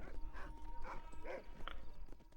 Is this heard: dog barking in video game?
yes